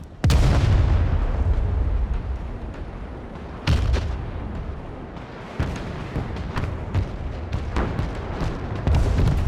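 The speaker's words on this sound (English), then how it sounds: "Come on, Rocket Barrage. I'm counting on you." Rocket barrage artillery in the war game Broken Arrow, loud booming explosions landing in a rapid irregular series, with heavy blasts at the start and several more sharp impacts following through.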